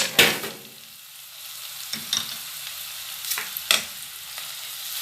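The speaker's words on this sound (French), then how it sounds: "Je mélange un peu afin que mes oignons se colorisent un peu, surtout avec le paprika." Onions with paprika and spices frying over medium heat, a soft low sizzle punctuated by a few sharp spoon scrapes and clacks against the pan, close and without voices.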